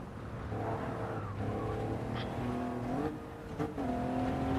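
A DMC DeLorean driven on a time-trial lap in Gran Turismo 7 with traction control off, a steady engine drone with shifting pitch and brief rising revs and tire noise, moderately loud and continuous.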